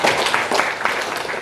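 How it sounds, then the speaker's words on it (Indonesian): Audience applause in a meeting hall during a cooperative's pre-annual members' meeting, a brief, loud burst of many hands clapping close by with no talk over it. "Tepuk tangan untuk beliau."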